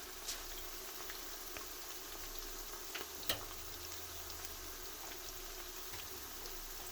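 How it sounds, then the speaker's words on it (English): Onions fry in a pan with a quiet, steady sizzle and crackle, marked by a few sharper pops scattered throughout. "while the onion are being fried"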